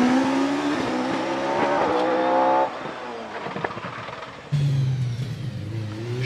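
An OMS 28 hill climb race car with a 2.8 litre TKD engine at Prescott, loud and close, revving hard through gear changes, dropping briefly, then surging again as it climbs.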